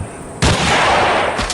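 A single loud sniper rifle shot from the video game Hunting Sniper, a sharp blast that sets off a long rumbling echo and tail.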